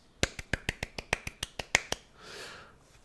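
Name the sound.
finger snaps imitating applause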